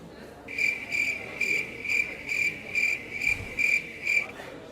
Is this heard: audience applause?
no